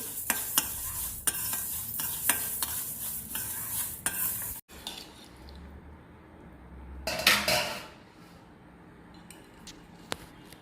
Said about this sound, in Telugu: మెంతులు, ఆవాలు 2 కలిపి వేయిస్తున్నాను.